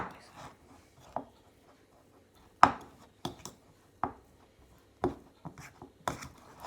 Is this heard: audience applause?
no